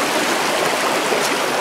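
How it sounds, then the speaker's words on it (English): The Jacks River, a mountain stream, rushes steadily with a constant broadband wash of flowing water, close and fairly loud, without voices. "Well, that's the Jacks River."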